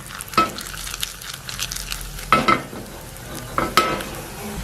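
Cashews roast in a pan for pongal with a soft sizzle. A utensil scrapes and stirs in a few distinct bursts, and no one speaks.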